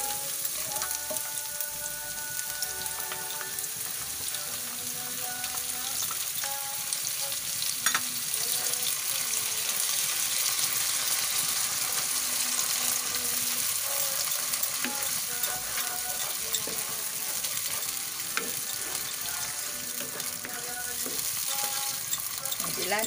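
Garlic and corned beef sizzle steadily in a pan as pichay is sautéed, a loud, continuous crackling fry with occasional stirring scrapes and no speech.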